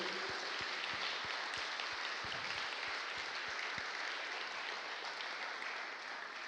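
A church congregation applauding the Lord during a sermon: a soft, even wash of clapping from a crowd heard at a distance, with a few sharper claps standing out near the start.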